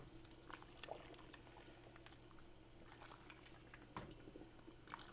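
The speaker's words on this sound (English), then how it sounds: "I've got the water boiling for the potatoes right behind it." A pot of water for potatoes boils on a home stove, a steady faint bubbling and patter with occasional small pops, no voices.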